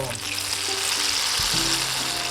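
Turon filled with jackfruit and apple fries in a shallow layer of oil, giving a steady close crackling sizzle throughout, with a few soft knocks and stirring sounds partway through.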